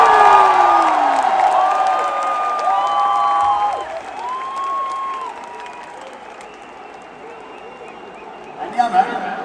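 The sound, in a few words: stadium crowd applauding and cheering for Jasprit Bumrah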